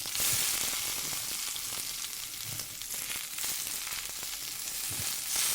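Washed water spinach (kalmi greens) tossed into a hot pan with potatoes, frying with a dense, close sizzle and crackle, interrupted by occasional stirring knocks, no talking.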